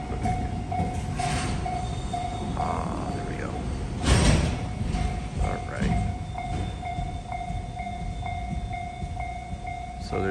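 A long freight train of small cars rumbles past a Japanese railroad crossing, with steady rolling clatter, a crossing bell tone held throughout and a louder burst partway through, while someone speaks briefly nearby.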